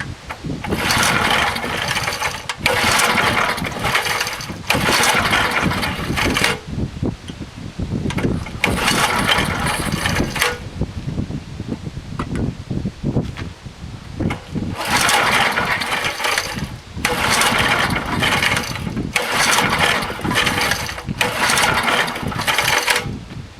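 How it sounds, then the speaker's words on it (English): An old 1990s Craftsman 2400-watt generator runs with its throttle held down near idle, its engine loud and close, surging unevenly with repeated dips and recoveries in intensity. "I got a Q-tip jammed in the throttle to actually keep it down to about an idle instead of wide open"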